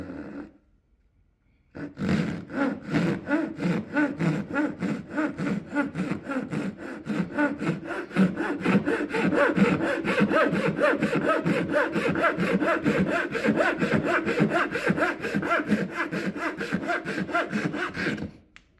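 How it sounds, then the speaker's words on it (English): A Jorgensen 9.5-inch Japanese pull saw cuts through wood in a fast, even run of close rasping strokes that carries on steadily after a brief pause at the start. "we're gonna mark a line where we wanna cut with the saw"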